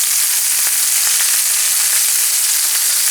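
Celery, carrots, onion and corn sizzle steadily in a hot pan, a continuous close crackling fry with small pops and no talking over it.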